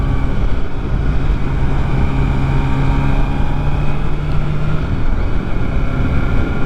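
A Lexmoto motorcycle engine revving at high RPM on the road: a loud, sustained engine drone with a steady low hum, mixed with wind buffeting, and no talk.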